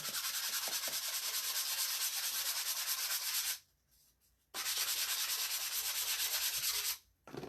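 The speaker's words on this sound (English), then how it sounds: "want to hit it just a little bit with sandpaper so that it's nice and smooth on all of these pieces" Sandpaper rubbing quickly over wooden pencil-shaped door hanger pieces, a close, steady rasping scrub in two long bursts split by a short pause, with no talking.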